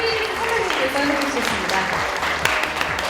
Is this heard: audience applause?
yes